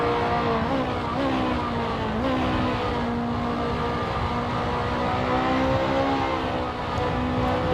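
A GT2 racing car in a sim racing championship brakes hard into a corner, engine note dropping while a sustained squeal rises from the right front tire locking up, loud and continuous without any talk.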